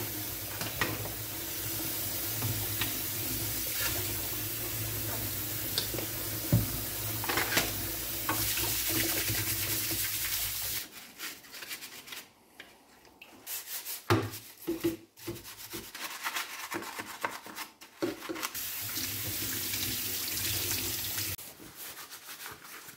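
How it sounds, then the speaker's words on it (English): Scrubbing a guitar shell, an SLH LS-45, to strip grease and residue: steady close rubbing and scraping for about eleven seconds, then quieter intermittent scrubbing strokes and handling noises. "So I'm gonna go and give this thing a scrub."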